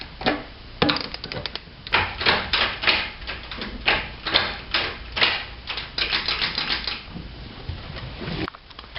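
Bolts on a Toyota 4Runner short shifter for a W56 transmission being tightened with a torque wrench, giving rapid repeated ratcheting clicks in short close bursts with brief pauses between them.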